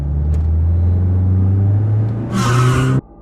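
A car arriving at a bus stop and pulling up: a steady, loud engine rumble close by, a brief surge of revving near the end, then the engine cuts off abruptly.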